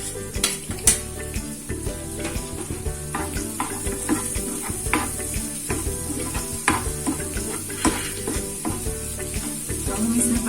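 Onion, garlic and mixed vegetables sizzle with spices in a pan, a continuous crackling fry broken by repeated stirring scrapes and light clinks of a utensil, no speech.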